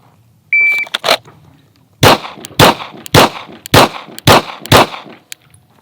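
Pistol gunshots ring out in a timed lateral bill drill, opening with a shot timer beep and a shot, then six sharp, evenly spaced reports in quick succession, loud and close outdoors.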